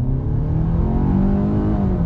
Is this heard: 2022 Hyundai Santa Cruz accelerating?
yes